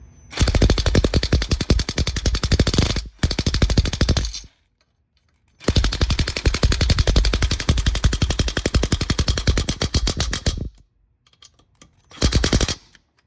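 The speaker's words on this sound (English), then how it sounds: "So I just switched over to a power tool right here." Loud bursts of rapid rattling from a power tool, like an impact driver, tightening parts on a Predator 212cc engine, in three long runs and a short final burst with brief pauses between.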